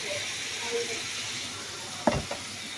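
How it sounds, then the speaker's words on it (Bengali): Bitter gourd frying in a pan: a steady soft sizzle throughout, with a couple of brief clinks of stirring near the end. "কিছুক্ষণ ভেজে নেওয়ার পর আমি দিয়ে দিচ্ছি হলুদ গুঁড়ো"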